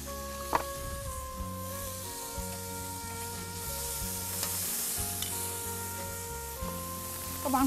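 Marinated chicken pieces sizzle steadily on a grill, close and continuous, with a few clicks and clatters of utensils and no voices.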